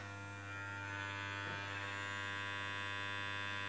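Electric hair clippers with a half-inch clipping attachment are switched on and run alone at close range, giving a steady, unbroken electric hum for the whole stretch.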